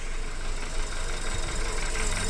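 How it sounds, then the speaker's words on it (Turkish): A car engine runs steadily at idle during heavy maintenance, with the chain cover off and the V-belt removed, giving a continuous close mechanical drone with no talk. "Marşa bastık arkadaşlar."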